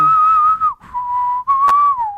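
A synth line imitating an old Western movie whistle in a song, a clear, loud, sustained whistle-like tone in three long held phrases with slight pitch slides between them.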